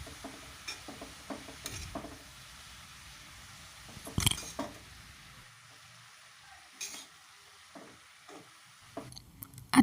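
A spoon stirs salt and turmeric into a cabbage filling for paratha, with soft scraping and clinking strokes at an irregular pace, quiet and close.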